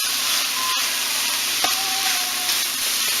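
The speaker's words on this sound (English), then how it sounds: "we're going to mix it around and saute that to release all the aromas and the flavors" Tex Mex spice seasoning sauteing in a skillet for a keto dish, a bright continuous sizzle broken by a couple of sharp utensil clicks and scrapes, close up with no voices.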